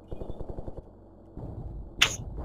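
Gunshot in the shooter video game Ravenfield, a single sharp crack near the end following a quick run of soft rhythmic ticks, heard alone and fairly quiet.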